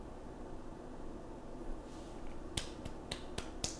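A few sharp, dry claps or snaps spaced about a quarter second apart ring out faintly over a quiet hiss, near and isolated.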